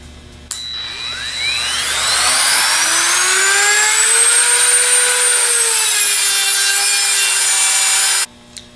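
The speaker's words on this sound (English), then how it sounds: "use the Dremel to cut it off" A Dremel rotary tool cutting through the hardened steel bearing race of a Bosch alternator, a loud, close high-pitched whine that rises as the cut bites and grinds steadily for several seconds before stopping abruptly.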